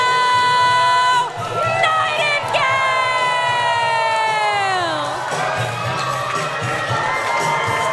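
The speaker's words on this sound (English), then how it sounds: "Crowd coming to life as we welcome you back from intermission" A wrestling crowd at a West Coast Pro anniversary show roars back to life after intermission, loud sustained cheering and shouting with a rising siren-like whistle sweeping through it.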